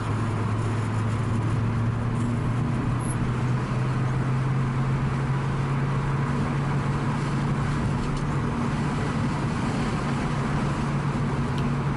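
Inside a 1966 Ford Mustang nicknamed Betsy, fitted with a 750 Holley carburettor and cruising on a road: a steady, loud engine drone with a constant low hum and road rumble, no talking.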